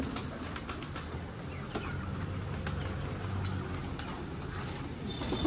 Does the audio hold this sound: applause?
no